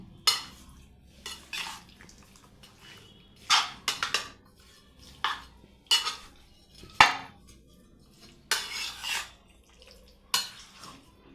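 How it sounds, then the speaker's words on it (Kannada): Chicken sukka being stirred in a pan: a metal spoon scrapes and clinks against the pan in irregular, evenly spaced bursts, close and moderately quiet, with no talking. "ಈಗ ಇದನ್ನು ಚೆನ್ನಾಗಿ ಮಿಕ್ಸ್ ಮಾಡಿಕೊಳ್ಬೇಕು ಮಿಕ್ಸ್ ಮಾಡ್ಕೊಳ್ತಾ ಇದ್ದೇನೆ"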